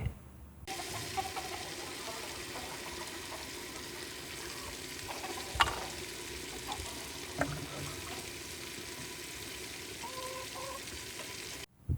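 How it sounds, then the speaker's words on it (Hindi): Meat for an Aloo Gosht curry fries in a pot with a loud, steady sizzle that lasts throughout. There are a few faint clinks of stirring, and the sound stops abruptly at the end. "अब इसके अंदर गोश्त डालेंगे।"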